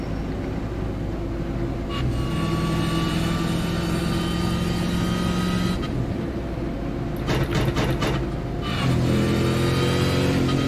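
Race car from the AUSCAR racing game at Kansas, its engine droning loudly and rising in pitch through repeated accelerations with brief gear-change breaks and revving bursts, continuous and close throughout.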